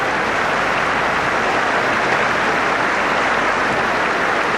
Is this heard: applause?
yes